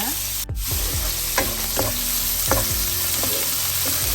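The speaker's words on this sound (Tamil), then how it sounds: "இது நல்லா வதங்கட்டும்." Chopped red onions sautéing in a pan for egg curry, a steady frying sizzle with a sharp clack and repeated spatula taps and scrapes at a loose rhythm, close up and without talk.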